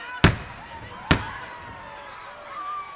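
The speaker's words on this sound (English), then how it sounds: "a lot of fireworks going off up in the air tonight" Fireworks bursting in the air above a high school football playoff game, two sharp loud booms about a second apart, each with a short fading tail, then the crowd murmuring in the background.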